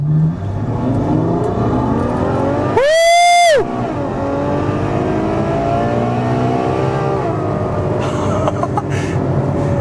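A Ferrari station wagon driven on roads in Boulder, engine revving hard as it accelerates, rising to a sharp high-pitched wail, then settling into a steady drone, with a brief whoop from a person in the car.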